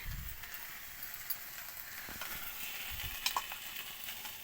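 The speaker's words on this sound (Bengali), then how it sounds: "আমি এর মধ্যে আদা আর রসুনের যে পেস্টটা করেছিলাম সেটা দিয়ে দেব" Ginger-garlic paste hits hot oil in a pan, giving a steady broadband sizzle with a few soft stirring knocks, close and continuous throughout.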